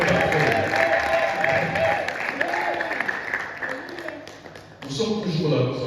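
A church congregation at a Sunday service claps and cheers in praise, a sustained burst of applause and crowd voices with some singing or calling over it, easing briefly before rising again near the end.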